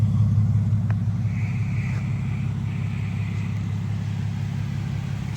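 Lexus GX550 truck with an aftermarket exhaust and twin turn-down tips, a low steady cruising rumble heard from inside the cabin, fairly quiet and even throughout.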